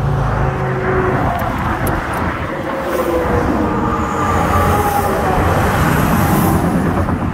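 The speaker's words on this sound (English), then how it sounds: "Now these cars are flying by." Cars speed past on a highway, a loud, constant roar of traffic that swells and eases as vehicles rush by close to the roadside.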